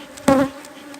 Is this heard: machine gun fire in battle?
no